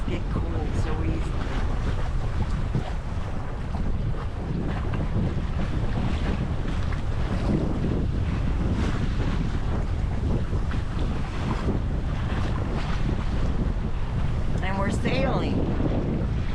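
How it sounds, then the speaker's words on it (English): A sailboat moves along at about four knots in open water, carried by the wind. Strong wind buffets the microphone and waves wash steadily against the hull, filling the whole stretch with loud, constant noise. "Sailing."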